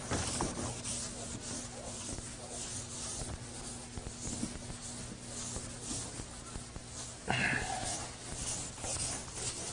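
Chalk eraser rubbing across a blackboard in a Princeton calculus lecture hall, a steady dry scrubbing that runs for several seconds with a low background hum, ending in a brief louder swipe.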